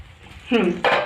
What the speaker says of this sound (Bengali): ঢাকনিটা উঠিয়ে দেখি।